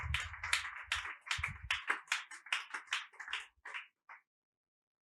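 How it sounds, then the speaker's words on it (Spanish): A church congregation at a Spanish-language service claps together, a dense burst of hand applause that thins into scattered claps and stops after about four seconds, with no talking. "Alguien le da un aplauso a Dios en esta hora."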